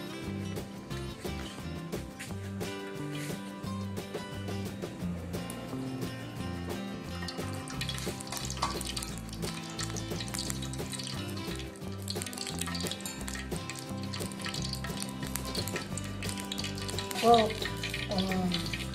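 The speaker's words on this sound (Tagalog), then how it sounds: "Painit na po tayo ng mantika." Hot oil heating for corn dogs, sizzling and crackling in a pan, a steady dense hiss that continues throughout with a few louder pops.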